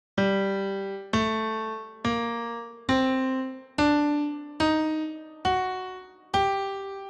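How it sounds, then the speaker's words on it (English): Eight evenly spaced notes of a harmonic minor scale ring out on a keyboard-like instrument, each struck then decaying, stepping upward one by one with no talking. "So this is the sound of a harmonic minor."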